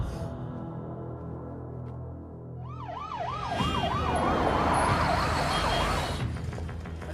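Ambulance siren in a Hindi film scene, a loud wailing tone rising and falling steadily over a low background rumble and growing more prominent partway through.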